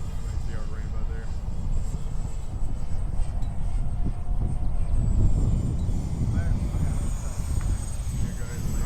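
Small X-Fly SU-27 twin 50mm electric ducted-fan RC jet flying on its maiden flight in windy, rainy weather, a continuous whooshing fan whine mixed with strong wind rumble, steady and moderately loud throughout.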